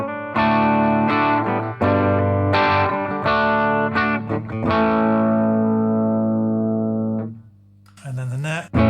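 A Gibson Les Paul electric guitar on its bridge pickup, clean with the overdrive switched off, plays a series of ringing chords and struck notes close up, ending with a sustained chord that fades before a brief scrape.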